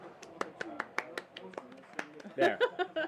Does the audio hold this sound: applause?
yes